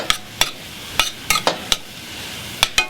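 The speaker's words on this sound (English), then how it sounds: "So we'll saute these onions and garlic" A spoon knocks and scrapes a pan while onions and garlic saute in melted butter, sharp separate taps over a low hiss, close and with no talking.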